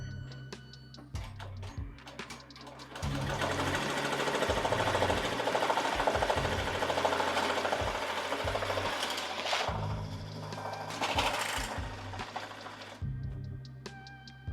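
An EMT16X embroidery machine stitches a Richardson 112 trucker hat, its needle hammering in a fast, even mechanical clatter that runs loud and close through the middle, starting and stopping at the edges.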